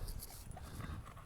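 Close, heavy panting from a big bully breed dog out on a walk, quick rhythmic breaths with a faint whimpery edge, heard alone over light outdoor noise.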